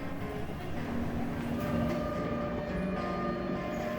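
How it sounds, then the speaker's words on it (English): A Japanese subway train rumbles steadily from inside the carriage, a loud continuous roar with faint rail clatter and a few tonal whines throughout, with no talk. "Riding on the subway for the first time was pretty fun actually."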